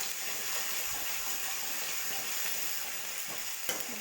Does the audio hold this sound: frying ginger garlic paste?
yes